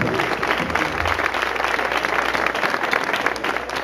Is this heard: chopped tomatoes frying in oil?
no